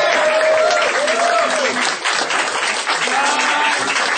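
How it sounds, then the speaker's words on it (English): A crowd applauds and claps steadily for a departing regular at a farewell show, a dense continuous wash of hands with some cheering or voices mixed in throughout. "So everyone give a big round of applause for Mark."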